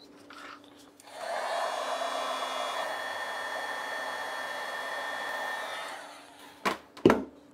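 A heat gun blows steadily for about five seconds while shrinking heat shrink tubing over wire connections, a soft even rush of air, followed by a couple of brief clicks and knocks.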